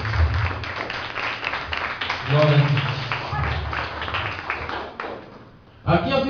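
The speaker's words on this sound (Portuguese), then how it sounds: "dando salva de palmas bem forte para o Senhor nesta noite" A church congregation claps loudly during an evening service, a dense patter of applause running throughout while someone speaks over it and voices sing out briefly.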